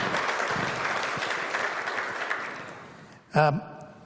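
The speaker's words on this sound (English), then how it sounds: "a big round of applause again for our stewards" Audience applause for stewards at a provincial finance event, a sustained patter of clapping that fades out, followed by a brief voice.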